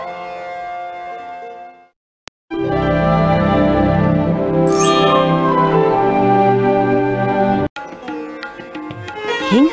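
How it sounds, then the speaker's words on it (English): Bells of the Madrasa in the Morocco pavilion, heard in the Walt Disney World Explorer video game, ring out in sustained, resonant tones after a brief silence, fading and returning with a short chiming passage at the end. "the bells of the Madrasa"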